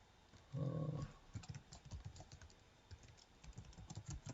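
Someone types an email address on a computer keyboard, a short burst of clicks followed by steady, quiet keystrokes at a close, even pace with no voices.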